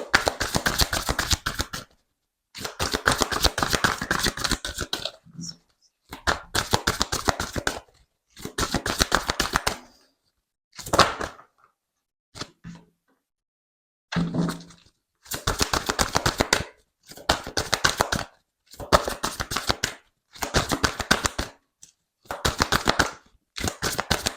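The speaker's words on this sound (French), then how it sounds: "je vais sortir déjà mes 3 cartes et après je vous dis" Oracle cards are shuffled in repeated bursts of fast, close, crisp riffling and flicking, separated by short silences and a few single card snaps as cards are drawn.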